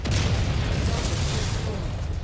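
A destroyed target explodes in the mech combat video game MechWarrior 5, a loud sustained blast and rumble that fills the whole moment without a clear start or end.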